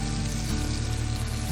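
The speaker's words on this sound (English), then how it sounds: "And we're just letting them sizzle." A steady, even hiss of pork chops frying in a hot pan, continuous and close, with no voices.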